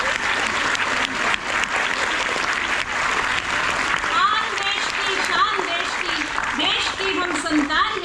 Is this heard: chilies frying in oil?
no